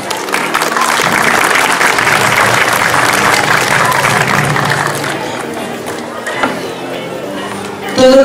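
A large crowd claps loudly and steadily to welcome a lawyer, the new president, to the microphone at a flag ceremony for the 2017 national games in Cotopaxi, fading slightly near the end with a brief voice.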